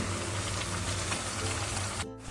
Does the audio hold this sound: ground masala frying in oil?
yes